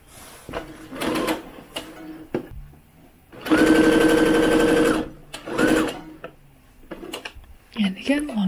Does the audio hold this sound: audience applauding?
no